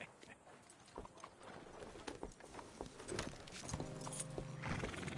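Horse hooves clip-clop steadily in the Red Dead Redemption western video game, joined by a horse whinny near the end, set against a busy game soundscape.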